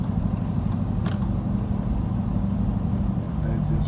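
A 700+ horsepower Dodge Hellcat's engine gives a steady, low rumbling drone from close by, with a few faint clicks above it.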